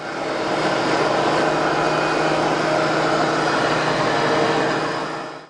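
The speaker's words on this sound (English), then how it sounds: "So I've got the 4 leg blanks out of the planer" A thickness planer feeding wooden table leg blanks roars with a dense, steady, loud whine for several seconds before winding down at the end.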